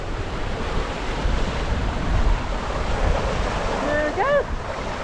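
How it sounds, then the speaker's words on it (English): Wind and waves rush steadily around a sailing boat under reefed main and headsail, with a brief voice near the end. "Love it, bit of wind."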